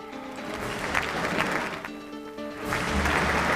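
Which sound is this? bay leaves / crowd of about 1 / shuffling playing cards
crowd of about 1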